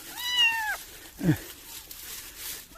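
A stray kitten gives a single meow up close, followed by a brief low vocal sound, over a noisy outdoor background.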